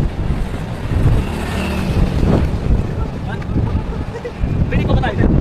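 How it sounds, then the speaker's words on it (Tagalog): Strong wind buffets the microphone outdoors in a steady, loud rumble that gusts and swells, with a person speaking faintly underneath. "Ay mahangin."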